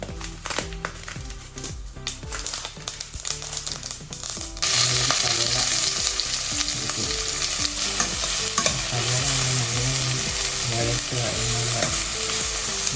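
Mustard seeds hit hot oil in a cooker and sizzle loudly and steadily, following a few seconds of quieter clinks and stirring, all close up with no one talking.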